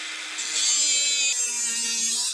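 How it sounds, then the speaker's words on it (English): A DeWalt cutter grinds through steel uprights for a 2007 Club Car cart, making a loud, continuous high-pitched whine that holds steady for a couple of seconds. "this little DeWalt cutter, that is my favorite cut tool for doing this kind of stuff"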